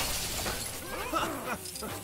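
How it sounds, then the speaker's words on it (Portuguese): Glass shatters in the LEGO DC Super Villains video game on PS5, a brief crunchy burst heard under game sounds and a speaking voice. "Aqui é pra quebrar o vidro."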